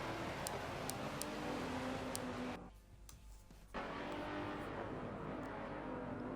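GT2 race cars on the final lap of a racing game, engines droning steadily with faint ticking, dropping briefly to a quieter stretch midway before the roar resumes.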